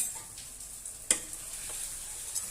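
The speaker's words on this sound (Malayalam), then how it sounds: "അതൊന്ന് ഇളക്കി കൊടുക്കാം" A pan of chicken curry with green chillies gets stirred, a steady sizzle with a sharp utensil clink in the middle and lighter scrapes afterward.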